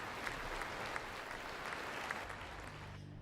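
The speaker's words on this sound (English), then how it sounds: "there was a minute's applause ahead of kick-off in memory of former Spurs and England manager Terry Venables" A football stadium crowd gives sustained applause before kick-off at Manchester City versus Tottenham in memory of Terry Venables, a steady distant wash of clapping that fades toward the end.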